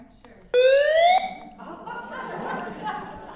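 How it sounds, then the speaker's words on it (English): An emergency weather radio gadget sounds a loud, close electronic alarm tone lasting under a second, followed by women chatting and chuckling at a meetup. "should I do the alarm? Can I do the alarm?"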